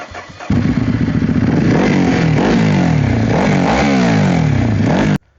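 A Ducati two-cylinder motorcycle engine starts up and revs hard several times, loud and close, its deep throaty rumble rising and falling in repeated surges before cutting off abruptly.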